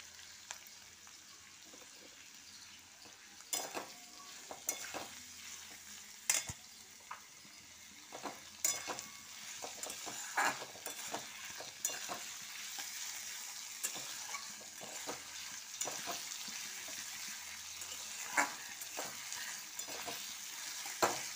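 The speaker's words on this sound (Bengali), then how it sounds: "আমার পেঁয়াজটা খুব ভালোভাবে ভাজা হয়ে গেছে।" Onions and fish fry in a pan with ginger and garlic, a soft continuous sizzle broken by frequent sharp clicks and scrapes of a spoon against the pan, fairly quiet and close.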